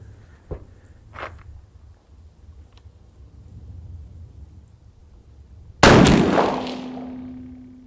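A single sharp rifle shot from a .350 Legend cracks loudly near the end at an outdoor range and echoes away, preceded by quiet handling clicks and faint background hum.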